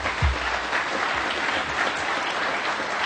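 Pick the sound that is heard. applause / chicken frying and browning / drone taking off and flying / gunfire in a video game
applause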